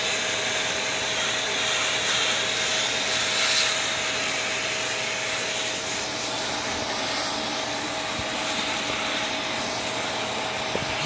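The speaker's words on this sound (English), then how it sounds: "Zarzar, you don't want vacuum?" A vacuum cleaner runs continuously at close range with a loud, even whooshing roar and a faint steady hum, used around a Highland Lynx cat, with no talk.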